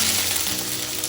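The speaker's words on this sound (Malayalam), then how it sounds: "മിക്സ് ചെയ്തിട്ട് വറുത്തെടുക്കാം." Finely sliced onions fry in coconut oil and ghee with a loud, dense, close sizzle that holds steady throughout, with no voices.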